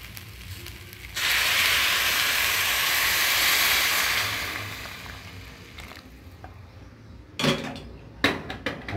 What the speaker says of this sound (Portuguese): Agora a gente está acrescentando a nossa água fervendo